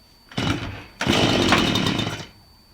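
A chainsaw revs in two close, loud bursts, a short one and then a longer sustained roar, before dropping off to quiet.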